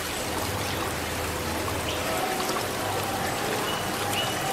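River water flowing in a steady, broadband rush with light trickling detail, continuous and fairly loud with no pauses.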